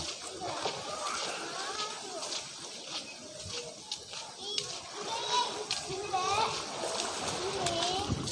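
A child swims in flood water around submerged houses, producing repeated splashes and sloshing close by, with children's voices and adult talk over the water.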